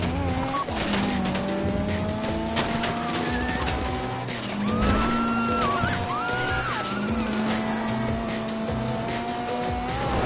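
A getaway car in a video game drives hard, its engine droning loudly as its tires squeal in long wavering bursts, with no talking.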